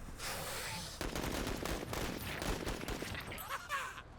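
A unit fires in a turn-based tactical RPG battle against bugs: a sustained rattling burst of automatic gunfire lasting several seconds, dense and continuous, at moderate level.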